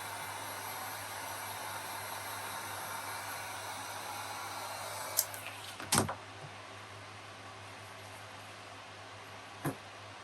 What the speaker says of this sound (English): I hit the heat gun underneath there just to evaporate the water for me so I could get that down